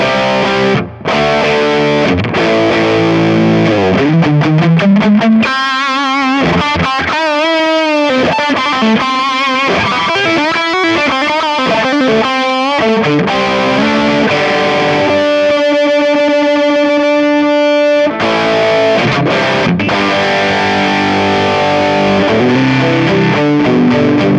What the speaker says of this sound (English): so here's max drive on the Plus DS